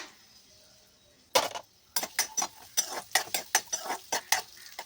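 Fish curry ingredients are stirred in a pan, giving a quick series of close, sharp scraping and clattering strokes that repeat in an uneven rhythm after a brief quiet opening, with no one talking.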